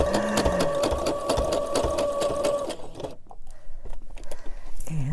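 A sewing machine stitches a baby clothes quilt in a steady rapid whir for about three seconds, then stops, leaving softer handling and fabric rustling nearby.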